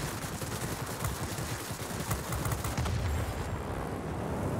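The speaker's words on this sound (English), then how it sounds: "The cannons do sound good, but lordy lord, this is doing bad things to my frame rate." Aircraft cannons in World of Warplanes firing continuously, a loud dense rattling burst of gunfire sustained for several seconds with no pause.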